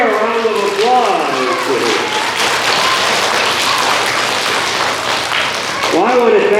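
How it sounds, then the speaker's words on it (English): Children in a pre-K to first grade class clap together in a loud, sustained burst of applause that fills the room, lasting several seconds. "Give Ramir a round of applause."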